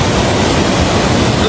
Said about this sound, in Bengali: সামনে একটা ঝর্ণা, রাস্তাতে এই ঝর্ণাটা পড়লো